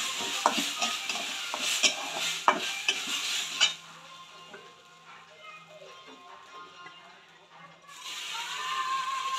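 Mung dal frying in a pan is stirred with repeated scraping taps and clicks over a sizzle. The stirring stops midway, leaving a quieter simmer, before the close frying hiss swells again.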